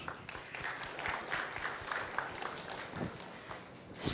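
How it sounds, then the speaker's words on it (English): Audience applause at an innovation, design and entrepreneurship bootcamp: a steady, fairly faint patter of many clapping hands that continues without a break and swells slightly at the very end. "So, a big applause to you for being an innovator."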